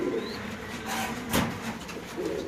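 Pigeons coo softly and steadily at close range, their low murmuring carrying on for a couple of seconds without any voices.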